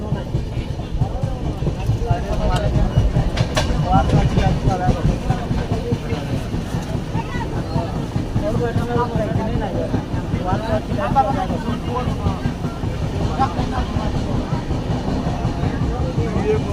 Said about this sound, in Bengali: এটা হলো আমাদের ভারতের রেল সফর